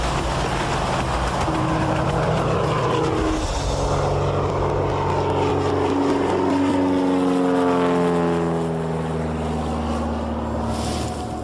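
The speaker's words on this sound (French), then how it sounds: "On est à bord de l'avion et on décolle." Aircraft engines roar steadily close by, with a rising, sweeping pitch as power builds for takeoff, loud throughout with no talking.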